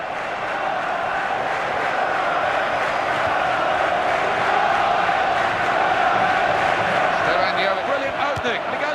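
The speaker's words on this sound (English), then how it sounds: "A certain amount of irony in the applause for that rather poor effort at goal." Stadium crowd noise from the FIFA 14 football video game, a steady broad roar of fans clapping and murmuring that holds at even loudness throughout.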